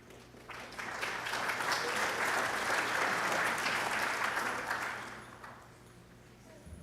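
Audience applause at an academic awards night, a sustained broad wash of many hands clapping that swells and holds for several seconds, then fades to a quieter tail near the end.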